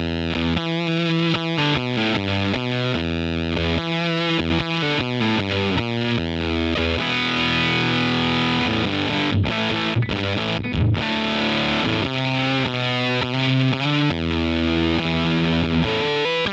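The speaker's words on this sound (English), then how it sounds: "safe to say that that fuzz face does not sound like a fuzz face anymore." Fuzz Face pedal guitar tone through a tuner with its buffer switched on, a loud, thick distorted electric guitar riff of chugging chords and sustained notes played continuously and alone.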